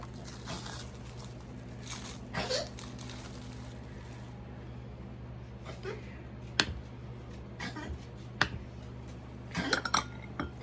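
Banana pudding being scooped into a serving dish in a home kitchen, with intermittent soft clinks and scrapes of a utensil against the dish, quiet and spread out over a low steady hum.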